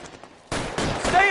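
Bursts of rapid gunfire in the video game L.A. Noire erupt after a quiet start, loud and close, rattling as overlapping volleys.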